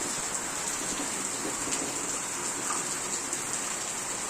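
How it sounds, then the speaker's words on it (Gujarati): Heavy rain pours down steadily outdoors near a Hanuman temple, a dense unbroken hiss of drops hitting surfaces with no pause, loud and close, with no voices. "વરસાદ ચાલુ થઈ ગયો."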